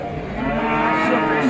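A cow gives a single loud, drawn-out moo close by at a busy cattle market, filling the short moment without talk over it.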